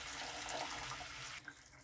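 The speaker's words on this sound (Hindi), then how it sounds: "अब इसमें डाली हूँ गरम पानी।" Hot water poured into a pan of curry with fried spices, a steady close rushing splash that cuts off abruptly near the end, leaving a faint drip.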